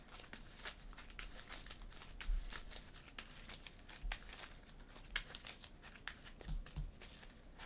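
A deck of playing cards is shuffled, giving quick, crisp riffling clicks in bursts, close and fairly quiet, with no talking.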